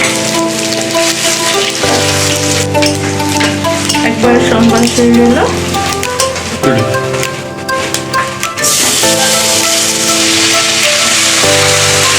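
Dried chillies, ginger and phoron sizzle loudly in hot oil with a dense, rain-like crackle, heard under steady background music.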